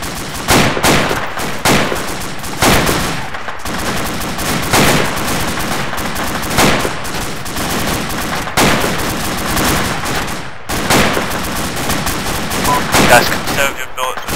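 Loud, dense gunfire from the military video game ArmA II, with sustained bursts of automatic fire and rapid shots repeating in clusters throughout, close and continuous with only brief gaps, while voices talk underneath.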